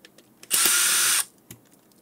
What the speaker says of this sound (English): We are going to open these three screws inside.